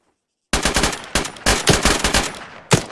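Rapid gunfire at a target during a shooting game: after a half-second silence, loud close bursts of shots crack in quick irregular clusters, alone with no talking.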